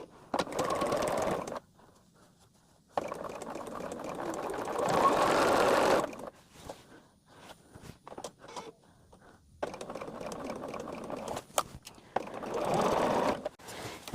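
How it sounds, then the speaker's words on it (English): A sewing machine stitches cotton quilt pieces together in rapid whirring runs, several seconds each, broken by quiet pauses and small clicks, close up. "let's get this sewn together and we will have our center"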